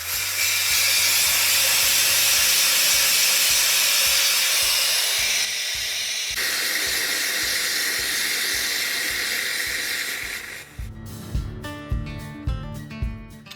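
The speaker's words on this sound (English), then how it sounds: "we're going to air down this 40-inch tire real quick" Air hisses loudly and continuously out of a 40-inch off-road tire being deflated through a valve, a long steady rush that drops in tone midway, then gives way to clicks and knocks.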